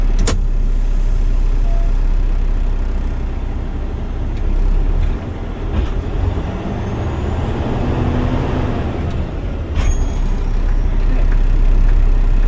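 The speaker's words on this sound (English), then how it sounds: "Now I'm going to move forward at 5 miles an hour to check my service brake." A truck with an Eaton 10-speed creeps forward at about 5 mph for a service air brake check, its engine a steady close rumble with a brief hiss and clunk as it slows.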